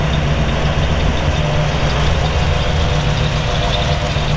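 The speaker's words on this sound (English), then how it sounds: "We're actually going to fire it up here for you." A 1940 Ford V8 engine, started cold, runs at a steady, loud idle, rumbling evenly with a low throb and no voices, continuously from start to finish.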